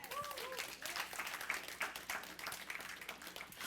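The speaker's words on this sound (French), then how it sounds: "Par vos acclamations." Church congregation applauds with dense, moderately loud clapping mixed with faint crowd voices, continuing evenly through the clip.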